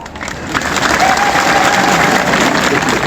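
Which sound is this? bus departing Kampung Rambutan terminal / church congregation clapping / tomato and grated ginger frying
church congregation clapping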